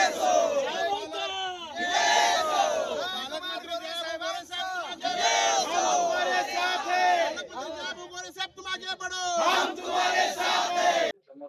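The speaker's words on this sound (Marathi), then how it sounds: "जल्लोष साजरा केला।" BJP supporters celebrate an election win in Solapur's municipal ward 23, a crowd chanting and shouting slogans together in loud rhythmic bursts, with voices overlapping throughout.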